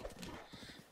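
A horse gallops in a video game, its hooves clip-clopping in a quick rhythm under game sounds, faint and brief.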